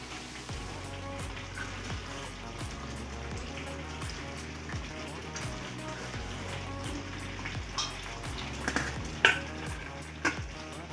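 Chicken leg pieces and fried onions for South Indian biryani being stirred in a pot, a dense close sizzle broken by repeated scraping strokes and louder clanks near the end, with no talk.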